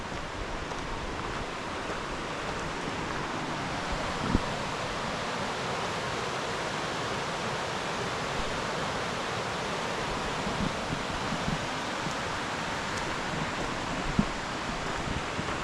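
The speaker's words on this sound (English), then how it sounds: "Kind of a loud descending river there." A loud river rushes downhill in a steady, dense roar that holds without a break, with a few faint clicks and knocks on top and no voices.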